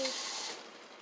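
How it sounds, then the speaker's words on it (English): A dash of water splashed into a pan of caramelizing onions for Philly steak, giving a brief bright hiss that fades quickly to a soft sizzle. "Add a little bit of water, just a dash, just to get a little saucy."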